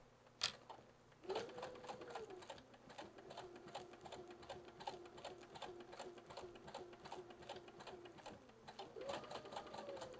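A sewing machine stitches a quarter-inch seam on a summer outfit, with a rapid, steady mechanical needle chatter running nearly continuously close up, a brief faster burst at the start and a motor hum underneath.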